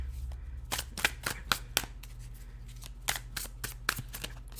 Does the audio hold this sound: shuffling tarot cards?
yes